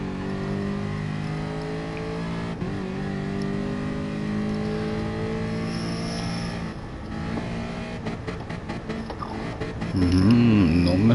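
A race car engine revs steadily with rising and falling harmonic pitch, running clean without misfires, loud and close, ending in a harder, louder rev burst.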